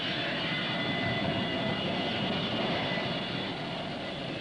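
An airplane at Fort Lauderdale International Airport, its engine a loud, steady roar that holds evenly throughout with no voices over it.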